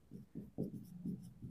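Chalk or marker scratches across a classroom board in short, separate strokes, about six quick scrapes in an uneven rhythm, faint and close with no talking.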